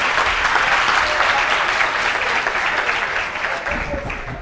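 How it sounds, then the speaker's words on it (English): Audience applause at a business and entrepreneurship event, a steady dense clatter of many hands clapping that holds for several seconds and thins slightly near the end. "Another round of applause."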